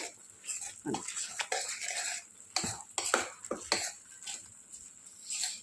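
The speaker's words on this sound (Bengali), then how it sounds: "সবগুলো উপকরণ দিয়ে ভালো করে মিক্স করে" A spoon stirs and mixes pav bhaji ingredients in a pot, producing repeated scraping and clinking strokes at close range, with a faint voice in the background.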